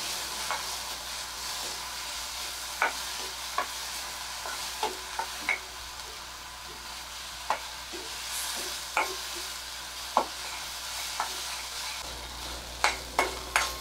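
Mushroom masala sautéed and stirred in a pan, giving a steady soft sizzle broken by frequent sharp scraping clicks of the spoon, close and fairly loud, with no talking.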